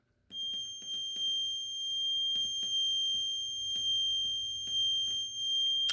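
An electronic tone from a speaker sounds as a button is pressed to type a message: a steady high whine runs throughout, marked by a series of brief clicks or blips in irregular bursts, with no talking.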